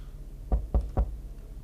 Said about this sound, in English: So we've got some knocking going on, which I assume is coming from our own house.